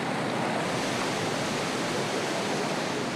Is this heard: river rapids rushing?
yes